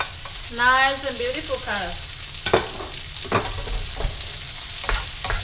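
Chili and corn stir-fried in a pan over medium-low heat for a vegan tofu and sweet pepper dish: a steady close sizzle with repeated spatula scrapes and stirs, and a voice talking briefly at the start.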